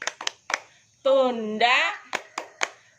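Short bursts of group clapping in a set rhythm at a training session, with a voice chanting between the clapping runs.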